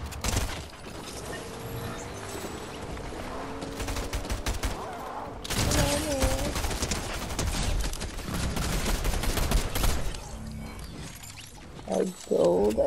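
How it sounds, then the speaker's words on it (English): Bursts of gunfire in Fortnite, rapid fusillades and single shots rattling through busy game sound, with a voice talking intermittently over the clatter. "More shooting."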